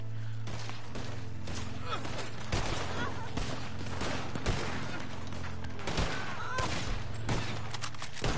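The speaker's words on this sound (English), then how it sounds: "Explosive bullet." Rapid explosive-round gunfire in Red Dead Redemption 2 Online, a dense fusillade of sharp overlapping shots and blasts running steadily throughout at close range over a constant low background hum.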